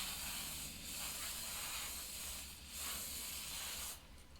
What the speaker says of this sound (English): Give it another good spray.